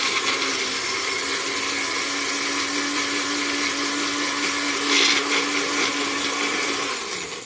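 A small NutriBullet blender whirs steadily as it mixes eggs, a constant high-pitched motor buzz that runs for several seconds before winding down at the end.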